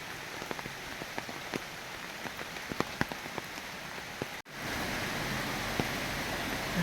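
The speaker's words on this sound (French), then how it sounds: "Le temps de savourer la musique de la nature," Steady rain patters onto forest leaves near hot springs and an emerald pool, with scattered close drips standing out over a dense hiss; the sound briefly drops out before the downpour returns fuller.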